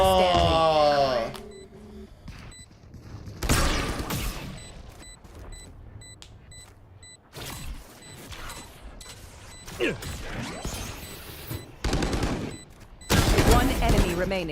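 Missile volleys and explosions from a Warcraft 3 tournament match come in repeated loud bursts of booming, crackling blasts separated by quieter stretches, with busy game effects between hits.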